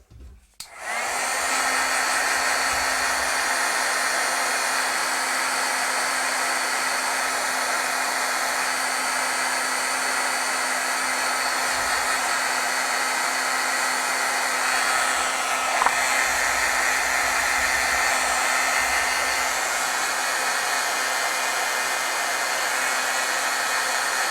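A hair dryer drying freshly stamped ink switches on with a click and then blows at a steady, loud, close whir without pause for over twenty seconds.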